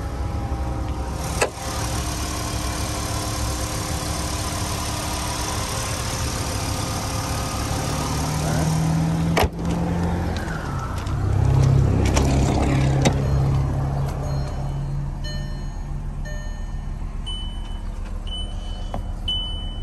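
A 2005 Volkswagen Jetta with a 2.5-liter five-cylinder engine idles steadily with a low, constant hum, the sound shifting partway through as if heard closer under the hood, with a few brief clicks and thumps and no talking.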